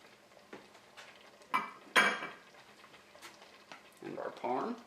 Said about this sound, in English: now we're ready to add the remaining cheese